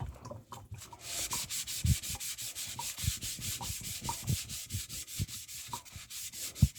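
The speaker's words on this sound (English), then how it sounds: "I did not scrub the black ones, so let me do that now." Steady back-and-forth scrubbing of black items with a scrubber, rhythmic rasping strokes repeating close by at an even pace throughout, with no talking.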